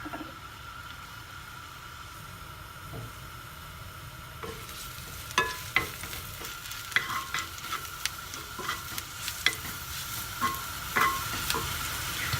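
Sliced shiitake mushrooms stir-fried with oyster sauce sizzle softly and steadily, and a spatula knocks and scrapes against the pan in irregular bursts that grow busier partway through.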